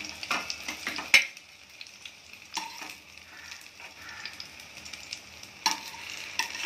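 Eggplant frying in hot oil, a faint steady sizzle with occasional sharp clicks and utensil taps as pieces are pressed and turned, close by, with no talking.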